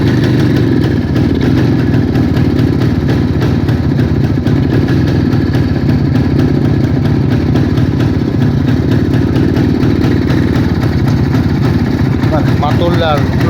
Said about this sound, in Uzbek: Mana shu mototsikl mana endi hozir yurg'izib beraman, bir ovozlarni eshitib ko'rasiz.